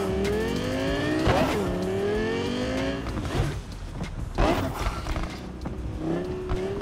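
Car driving in Cyberpunk 2077, an engine revving up through rising pitch sweeps with bursts of tire noise and rumble, loud and close, while a person speaks over it.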